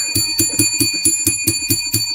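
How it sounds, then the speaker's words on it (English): A bell is rung rapidly and repeatedly, about ten bright metallic strikes in a quick steady rhythm, loud and close, with no voices over it. "Let's ring the bell for the vampire."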